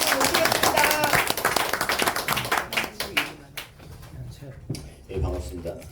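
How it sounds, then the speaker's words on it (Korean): An audience claps in welcome at a community self-governance consulting session, loud clapping that thins out and fades into scattered claps, with a few spoken words near the end. "여러분 박수 한번 보내주십시오"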